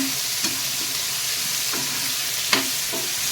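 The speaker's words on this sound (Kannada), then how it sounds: "ಈಗ 1-2 ನಿಮಿಷ ಇದನ್ನು ಫ್ರೈ ಮಾಡ್ಕೊತೀನಿ" Tomato chutney frying in a pan over a slow flame, a steady close sizzle with a few soft scrapes of stirring.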